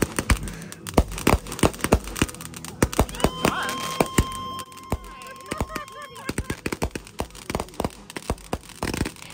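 Rapid, irregular bursts of sharp bangs and pops, loud and close, with a thin whistling tone rising in the middle of the barrage.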